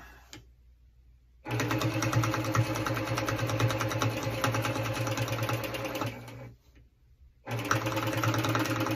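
Sewing machine stitching straight-line quilting around applique, a close, fast mechanical whir in two bursts separated by brief pauses.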